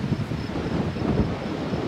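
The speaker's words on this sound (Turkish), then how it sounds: "Ama bayağı rüzgar var." Gusty wind buffets the microphone at a highland campsite at Soğucak Yaylası, a loud, steady low roar that swells and dips slightly, with no other sounds.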